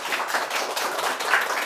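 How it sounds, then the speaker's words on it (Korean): An audience at a Korean lecture show claps to welcome a startup professor to the stage, a close, brisk burst of many hands at moderate level that continues without pause. "교수님을 큰 박수로 앞으로 모셔볼게요"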